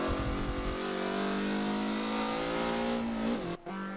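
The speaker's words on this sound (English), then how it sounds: "That's the supercharger winding up." A supercharged Mazda race car's supercharger winds up with a steady rising whine over the loud, sustained engine note, which briefly cuts out near the end.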